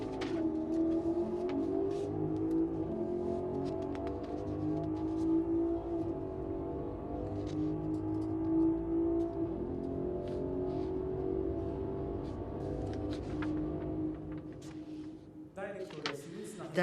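Toyota TNGA powertrain car engine accelerating on a test course, revs climbing in a smooth, rhythmic rising whine at moderate level, steady for most of the stretch before easing near the end.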